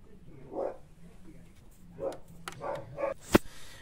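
Several dogs bark in short separate bursts, a few faint yips spread across the moment, ending in one sharper, louder bark, all at a moderate distance with no talk over them.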